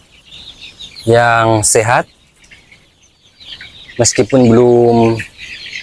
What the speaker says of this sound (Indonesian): Dan ini dia ayam saya